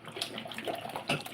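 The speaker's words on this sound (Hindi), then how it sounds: "अब इसमें और थोड़ा पानी डालूंगी," Water splashes as it is poured into a pot of fish curry, a close, continuous pour with short bursts of louder splashing.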